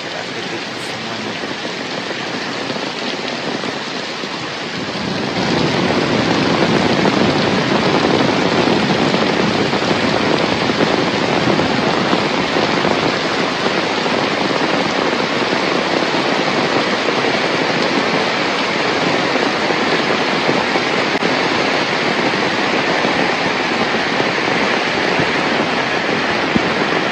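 Heavy rain pours down in the countryside as a dense, steady roar that swells after a few seconds and stays constant, with no distinct thunder cracks standing out.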